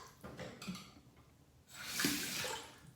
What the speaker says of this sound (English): I'm gonna throw some cold water on my face.